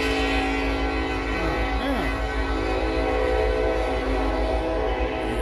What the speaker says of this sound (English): what is that, a train or something?